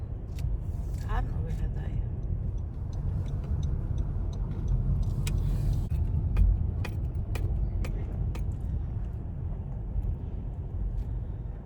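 A car drives along with a continuous low engine and road rumble, punctuated by occasional light clicks and ticks.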